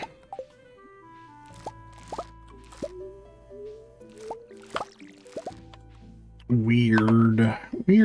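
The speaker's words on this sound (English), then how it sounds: "And we're gonna have to water them as well." Watering can pouring onto crops in Stardew Valley, a series of soft plops, drips and squishy splashes spaced across the clip, followed by a louder cartoonish burst near the end, with talking mixed in.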